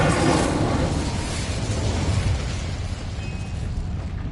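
An Incendio fire spell in Hogwarts Legacy bursts with a loud whoosh that fades into a rumbling roar, with no voices over it.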